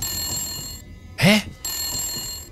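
Metal detector in the video game Metro Last Light, a steady high ringing beep tone heard close, cut briefly by a loud sweeping swoosh before the beeping resumes.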